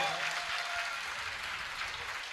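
Audience applause for the accompanying musicians at a live Gujarati comedy show, a steady unbroken wash of clapping held at even strength throughout, fairly loud and without any talk.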